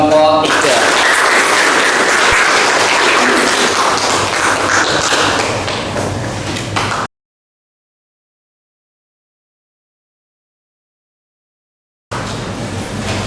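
A classroom of students claps for a presenting group: dense, loud applause with thumps runs for about seven seconds, cuts to silence, then briefly returns near the end.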